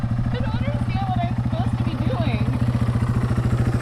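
Motorcycle engine idling and pulsing steadily at close range during a first riding lesson while the clutch is eased out, with a dense low rhythmic thrum throughout and faint voices underneath.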